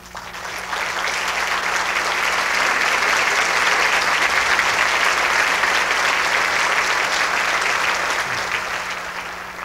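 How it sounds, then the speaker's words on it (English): A large crowd applauds steadily, the clapping swelling quickly and holding loud and dense for several seconds before tapering slightly at the end. "Can I ask Mr. Waleed Haddad to stand for your applause?"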